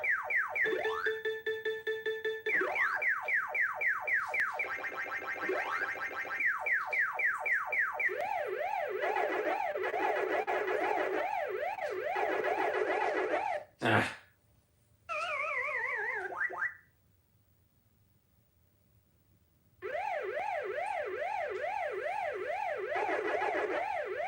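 Pac-Man ghost siren sounds from the Namco Museum 64 video game: loud, looping electronic wails rising and falling in rapid sweeps, shifting through several pitches and speeds, with a short burst and a brief silence before the siren resumes.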